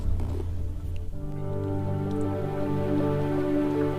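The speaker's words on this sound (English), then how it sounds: "it's a little bit drizzly outside" Light drizzle falling outside a camper van parked on a Scotland road trip, a soft steady patter heard from inside over a low hum, quiet and continuous.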